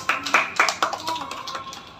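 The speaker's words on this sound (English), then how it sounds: "clap for Adya children" Young schoolchildren in a pre-primary classroom clap for a classmate, a brief burst of uneven, close hand claps that quickly thins out and fades.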